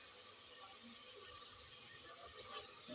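Water poured into a pot of frying chicken during home cooking of a chicken and lobia beans dish, a steady soft splashing and hiss running through the whole moment at an even level, with no talking.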